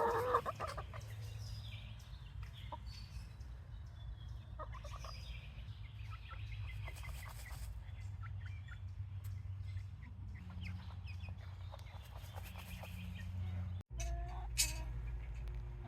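Backyard chickens cluck and call around a dust bath in a chicken run, a hen among them, with several overlapping bird voices over a steady low background hum, and a brief thump near the end.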